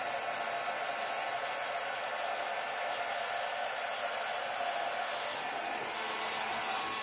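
A steady, loud rush of air from a blower gently pushing out poured paint mixed with cell activator, continuous broadband hiss throughout with no talking.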